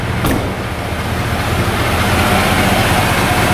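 Low, steady rumble of a supercharged 2011 Cadillac Escalade EXT engine idling in a closed garage, with a brief faint click near the start.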